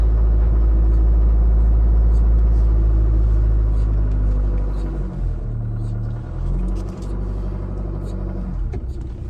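An SUV on a long drive gives a steady, loud low engine and road rumble throughout, with brief dips and swells in the hum but no distinct events standing out.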